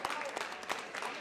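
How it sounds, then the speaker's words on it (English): Applause from the audience at a VEX robotics tournament in Batavia, Illinois, a short dense burst of clapping with a few louder peaks and a voice faintly underneath. "Let's give a round of applause to 355X"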